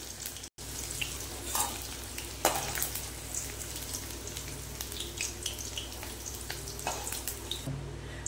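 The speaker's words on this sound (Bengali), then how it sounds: "বেশি ভাজবো না, লাল করবো না কিন্তু বন্ধুরা, হালকা, যাতে ভেন্ডির কাঁচা ভাবটা সরে যায়।" Okra (bhindi) frying lightly in hot oil gives a steady, dense sizzle that runs throughout, with a few soft clinks and stirring scrapes rising above it now and then.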